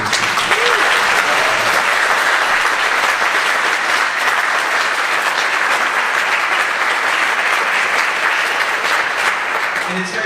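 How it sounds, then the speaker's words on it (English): An audience at a high school spring concert breaks into sustained, dense applause that stays loud and even throughout, with scattered crowd voices underneath. "So one more big round of applause for this team."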